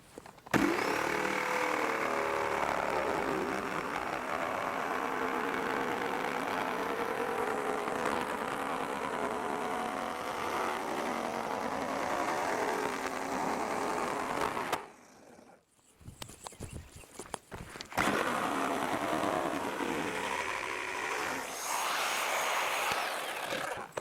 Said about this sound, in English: after sawing these in half with the jigsaw